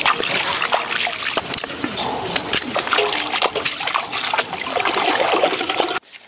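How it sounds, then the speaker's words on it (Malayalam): Food is washed by hand in clear flowing stream water, with a continuous close trickle broken by splashes and sloshes. "ആദ്യം നമ്മൾ ഈ വെള്ളത്തിലിട്ടൊന്ന് നല്ല വൃത്തിയൊന്ന് കഴുകിയെടുക്കും"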